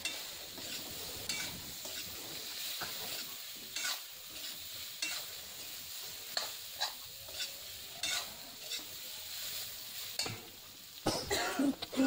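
Stirring wild taro with water in a cooking pan, giving soft scraping and sloshing strokes with occasional clinks of a utensil against the pan over a steady background hiss, repeated irregularly throughout.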